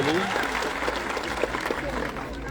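A crowd claps loudly at a Thakor community gathering, continuous dense applause with a voice speaking over it.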